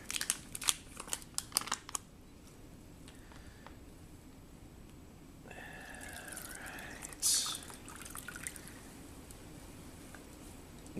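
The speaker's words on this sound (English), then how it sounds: "pour it in here." Shaken drink from an MRE Meal Cold Weather (Menu No 9, rice and chicken Mexican style) is poured into a cup, giving a short, close liquid trickle after some crinkling packet handling, with a brief splashy burst near the end.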